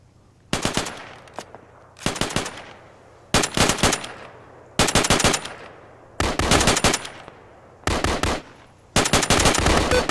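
Heavy machine gun fire in a military shooter game comes in six loud, close bursts of rapid shots, each separated by short pauses, and it rattles on steadily through the whole stretch.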